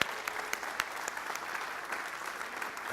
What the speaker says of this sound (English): I just want to get one more round of applause for them.